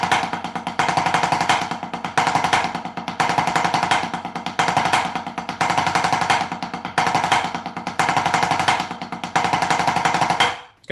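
Rapid duple rolls played on drums with sticks, with no triplet rolls, sound as dense, loud, crackling bursts. They come in repeated phrases of about a second with short gaps and end abruptly, with no talking.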